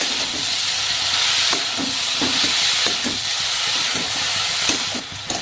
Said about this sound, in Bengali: এটিকে আবার ভালোভাবে নেড়ে ভেজে নিতে হবে।